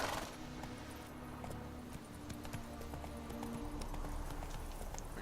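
Hooves of Roach, the horse in The Witcher 3, clip-clopping steadily at a moderate pace, quiet and continuous under a droning game ambience, with no talking.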